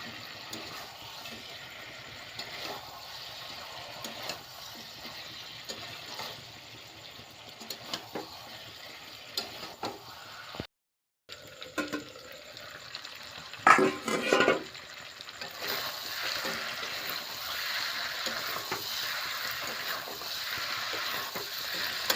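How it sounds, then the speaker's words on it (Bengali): Chicken being stir-fried in its released juices in a pan for chicken kosha: a faint, steady sizzle with occasional light stirring knocks, a brief dropout, then a louder scraping burst and a brighter frying hiss toward the end. "চিকেনটা থেকে জল ছেড়েছে, এগুলো ভালোভাবে কষিয়ে নিতে হবে।"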